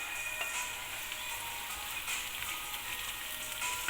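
Finely chopped tomato tipped into onions already softening in a pan for an eggplant and potato curry, with a steady, faint sizzle and light stirring noises that carry on evenly throughout, and no talking.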